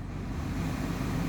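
Climate control fan of a 2023 Suzuki Baleno 1.2 AMT set to speed 1 with the windows rolled up, a steady low whooshing hiss filling the cabin, constant and moderately loud with no talking.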